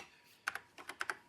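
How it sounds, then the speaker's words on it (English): Keys clack on an early-1980s Nokia MikroMikko 1 computer keyboard that is being tested after repair: six crisp, close keystrokes in two quick clusters, with no talk. "Now I will just quickly test the keyboard"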